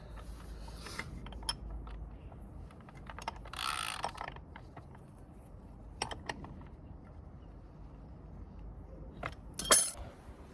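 A tool attachment for a mortar-removal tool is screwed on and tightened by hand, giving quiet ratcheting clicks, metallic clinks and a few louder rattles scattered through near silence.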